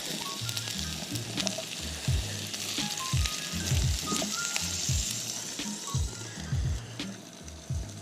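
Asparagus added to a grill beside shrimp and steak sizzles loudly and continuously, with scattered crackles and the scrape and knock of tongs throughout.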